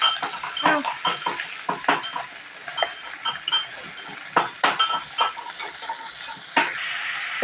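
A spoon scrapes and knocks against a pan while chicken curry with turmeric and curry leaves is stirred, giving irregular clinks and scrapes spread over several seconds, close up with no talking.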